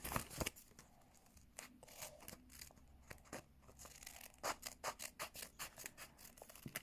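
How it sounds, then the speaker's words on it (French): Scissors cutting paper for a small DIY craft, a mini television and flower made for Grandmothers' Day: faint, close, crisp snips in a quickening series, with some rustling of the paper between cuts. "Ensuite, on va venir encore découper"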